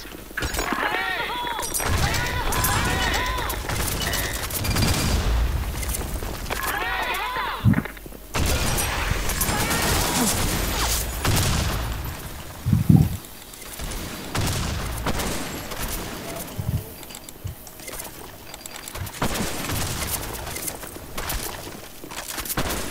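Bursts of gunfire and impacts from a sniper shooter video game crowd a dense, loud mix, with sharp cracks and booming shots scattered throughout and people talking over them.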